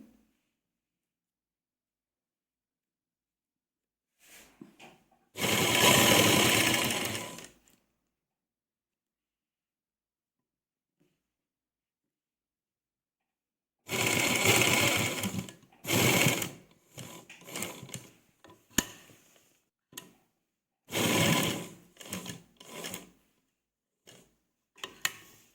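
A sewing machine stitches piping onto a dupatta, heard close in several short whirring runs of rapid ticking, separated by quiet pauses and a few brief stop-start bursts.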